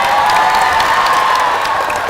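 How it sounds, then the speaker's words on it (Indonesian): Loud, close applause and cheering from a crowd of students after a dance show at SMA PGRI 2 Palembang high school, continuous clapping topped by shouts and a sustained high whistle-like cry. "tepuk tangan sekali lagi buat Kak Aryo dong."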